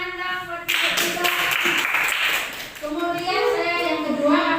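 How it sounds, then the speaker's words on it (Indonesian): A room of teachers at a primary school workshop clapping together, a burst of applause that starts abruptly, dips, then picks up again, with voices around it. "Tepuk tangan dong buat kita."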